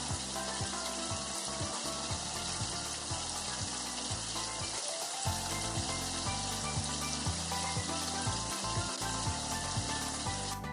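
Chikuwa fish cake coated in batter fries in a frying pan with about a centimetre of oil, giving a steady, dense sizzle that stays close and constant, with no talking.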